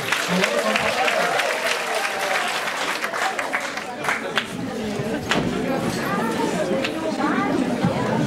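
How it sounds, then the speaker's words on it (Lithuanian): Audience applause at a children's talent show, sustained clapping from a crowd that carries on for several seconds, mixed with chatter and murmuring voices. "Plojimai."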